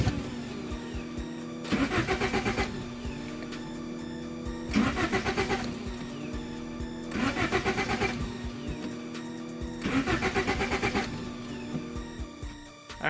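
A turbocharged Honda Civic with a D16Z6 engine cranks repeatedly in four long bursts of starter whirring, catching with occasional pops but never settling into a run, separated by short pauses.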